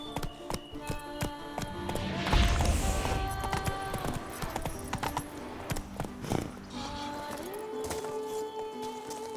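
Roach the horse galloping in The Witcher 3, with repeated hoof clatter over a busy game soundscape of music and ambience and a few louder thuds, fairly close and steady throughout.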